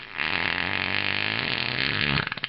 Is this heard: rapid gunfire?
no